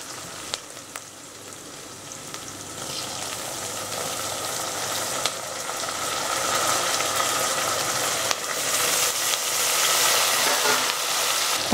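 Tomatoes hit hot oil for a chicken kulambu, setting off a loud continuous sizzle that builds and grows denser throughout, with occasional faint clicks of a utensil.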